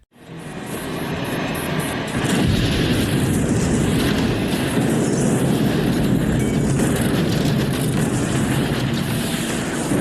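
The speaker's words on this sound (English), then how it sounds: "this explosion is so huge" A huge plane explosion in the 1989 science fiction film Millennium, a massive sustained roaring blast that swells in the first seconds and then rumbles loudly and evenly, with swirling whooshing tones over the top.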